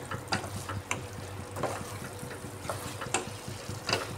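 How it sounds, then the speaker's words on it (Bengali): Water poured into a pan of spiced okra curry with yogurt during cooking, a soft continuous liquid pour with light splashing and a few clinks, close and fairly quiet. "মশলার বাটি দেওয়া জলটা আমি দিয়ে দিচ্ছি।"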